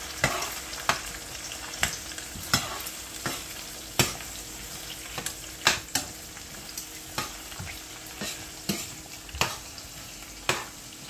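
Venison meat and egg fry in a pan under a steady low sizzle, while a utensil scrapes the pan in regular strokes about once a second, close and clear.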